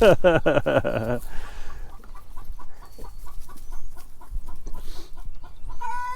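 Chickens cluck loudly in a rapid burst at the start, then quieter scattered clucks and calls continue nearby for several seconds.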